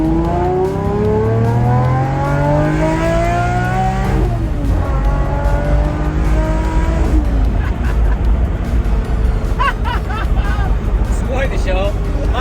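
A Lamborghini engine revs hard on a drive, still in third gear and climbing to about 7500 rpm, with loud, rising, sweeping tones that drop and climb again through gear changes over steady road roar. Excited voices talk over it.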